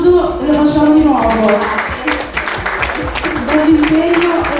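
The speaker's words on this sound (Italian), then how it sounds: "Da qua parte l'applauso e lo facciamo di nuovo." Audience applause at a regional Miss & Mister Model Italia beauty pageant final in Abano Terme, sustained crowd clapping mixed with music and voices, fairly loud throughout.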